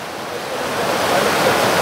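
Muddy rainy-season stream water rushing at high pressure through a pipe at a spring source, a steady loud broadband roar that swells slightly and carries on alone without speech.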